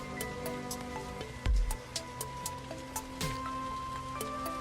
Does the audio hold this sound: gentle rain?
yes